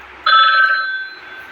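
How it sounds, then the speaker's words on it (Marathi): An old-style telephone bell rings once in a game with a talking dog, a sudden bright, sustained tone that starts sharply and slowly fades, alone and close. "फोन आला. थांब."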